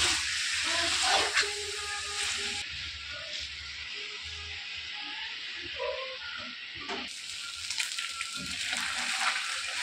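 Chicken frying in plenty of oil in a pan over a low sim flame gives a steady close hiss with soft crackles and occasional stirring clatters, unbroken by voices throughout.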